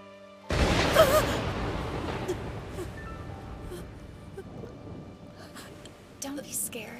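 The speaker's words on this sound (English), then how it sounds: "It's only a little thunder" Thunder in an animated scene: a sudden low rumbling crash that swells, holds and slowly fades over several seconds, with rain-like hiss and a voice speaking briefly toward the end.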